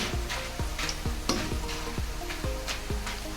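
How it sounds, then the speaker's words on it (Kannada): Jackfruit chips frying in hot oil, a dense continuous bubbling sizzle with rhythmic scrapes and taps of a utensil stirring through the pan, close and fairly quiet. "ಈ ರೀತಿ ಫ್ರೈ ಮಾಡೋದರಿಂದ ಚಿಪ್ಸ್ ತುಂಬ ಕ್ರಿಸ್ಪಿಯಾಗಿ ಬರ್ತದೆ"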